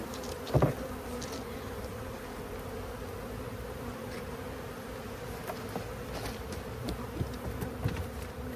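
Honeybees buzz in a steady, continuous drone during an open hive inspection, a dense close swarm hum with a brief louder burst near the start.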